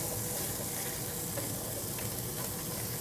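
Meat browning in a hot pan for garlic bread chili dogs, with a steady, dense sizzle and fry crackle running loud and continuous throughout, no talk.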